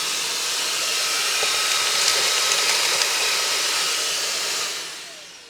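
A Makita XGT 40V cordless stick vacuum whines loudly and steadily as it sucks up screws, with faint rattles of debris, then the motor winds down near the end.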